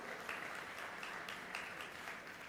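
Audience at the IIT Madras E-Summit inauguration ceremony applauds a speaker, a continuous wash of many hands clapping in a large room, steady and moderately loud with no talk over it.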